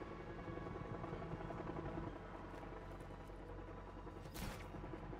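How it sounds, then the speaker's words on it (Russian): In Just Cause 3, a helicopter approaches with a faint, steady rotor drone and a low whirring hum, and a brief burst of noise near the end. "Один из моих летит к тебе на вертолете."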